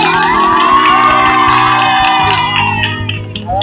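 A crowd at an inauguration event in Palakkad cheers and whoops loudly for Gabri and Jasmin, a dense wash of shouting voices with rising calls, close and continuous throughout.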